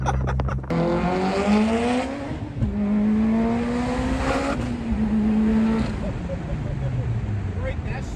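A 784hp turbocharged Mitsubishi Evo X on a stock frame with a 64mm turbo accelerates hard, its engine note climbing through gears with a sharp shift break, loud and close, while excited voices talk over it.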